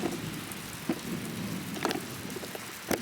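Steady rainstorm outdoors over garden beds with hoop covers, a continuous hiss of falling rain broken by a few sharper drops or thumps.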